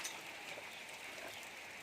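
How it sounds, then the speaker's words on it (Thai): Rain falls steadily outdoors as a faint, even hiss of drops with no breaks and no voices. "โอ้ฝนตกแล้วนะครับ"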